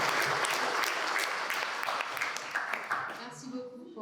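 Audience applause at a café talk event, a dense burst of clapping that fades out, with a voice speaking over its end.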